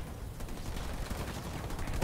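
Rapid gunfire from enemy vehicles in the strategy game Halo Wars 2, a dense continuous rattle of bursts lasting a couple of seconds, moderately loud with no talk over it.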